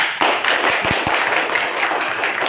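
Classroom students clap in an Indonesian lesson, a brief dense round with a few sharp distinct claps standing out near the start, fairly loud and close.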